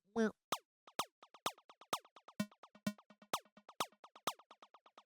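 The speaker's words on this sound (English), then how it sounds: "These little zappy sounds are very popular in this style of house" Short synthesized square-wave zaps with a falling pitch envelope for deep minimal house repeat in a quick rhythm, each echoed by quieter ping-pong delay repeats in dotted eighths, clean and alone.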